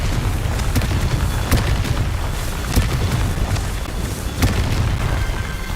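Repeated booming spell blasts in Hogwarts Legacy, several sharp explosive hits spaced a second or two apart over a heavy, rumbling low background, loud and close.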